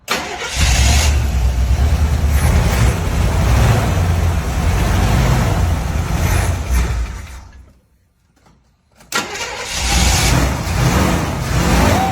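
A 1972 Chevrolet Camaro SS coupe engine cold-starts loud and close, runs with a rough rumble, drops briefly to near silence, then catches and roars again.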